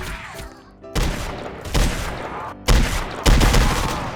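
Rapid pistol fire in the Roblox train game Dead Rails, with four loud, sharp bursts of close shots spaced about a second apart and ringing decay between them.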